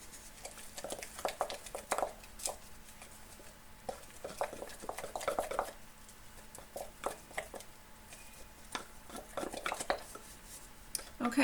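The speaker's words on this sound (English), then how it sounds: "Stir it up really nice and vigorously." A spoon briskly stirs sourdough starter in a container, giving irregular clinking and scraping knocks in quick bursts, close and fairly quiet, with no voices.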